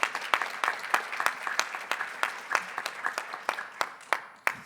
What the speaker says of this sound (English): So again, if we were to welcome Jacob, big round of applause to him.